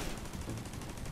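Sustained gunfire in The Division 2 video game, a dense rapid burst of shots running continuously without pause, loud and steady with no talking over it.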